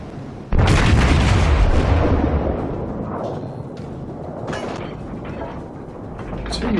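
Battleship main guns fire in World of Warships, a Nagato tier 7 Japanese battleship: a sudden loud, deep boom that rolls into a long rumbling decay, with smaller distant impacts and mechanical clatter following.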